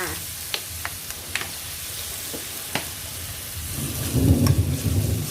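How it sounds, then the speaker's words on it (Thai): Low distant thunder before rain rumbles and swells toward the end, over steady sizzling and scattered clicks of roast duck stir-frying in a pan. "เสียงฟ้าร้อง"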